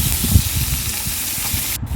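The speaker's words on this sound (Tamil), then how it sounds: "பாருங்க, இந்த மாதிரி நல்லா வதக்கி விடுங்க. வெங்காயம் நல்லா வதங்கி வரணுங்க." Onions sauté in a pan for tomato thokku, giving a continuous bright sizzle and hiss close by, with a brief sharper spray of frying noise near the end.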